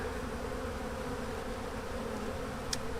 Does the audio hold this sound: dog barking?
no